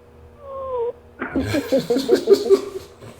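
A pet cat named Murphy gives a short wavering meow, then a burst of higher, choppy playful cries close by, loud against a quiet room.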